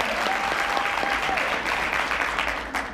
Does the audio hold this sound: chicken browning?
no